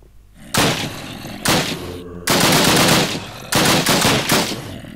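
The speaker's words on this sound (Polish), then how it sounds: "Pierwsza spróbowana broń to MP40." Bursts of rapid automatic fire from an MP40 submachine gun in a Minecraft WW2 mod, four loud close volleys separated by short pauses.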